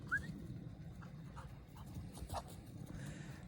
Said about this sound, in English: The dog is crazy, in case you were wondering.